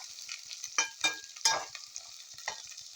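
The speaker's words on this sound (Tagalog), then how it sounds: "Kaya igisa ko lang ito." Sautéing a simple dish in a pan with oyster sauce and soy sauce, a steady close sizzle broken by several sharp stirring scrapes and clatters, no one talking.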